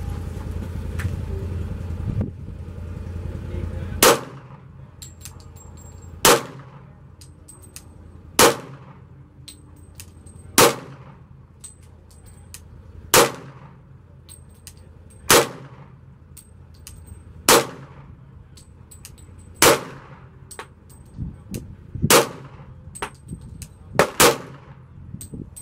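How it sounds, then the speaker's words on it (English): Ten sharp gunshots fired one at a time from a handgun magazine, spaced roughly two seconds apart with a steady rhythm, each crack loud and close with a short ringing tail over quiet outdoor background. "I'm going to shoot with support for my very first 10 rounds"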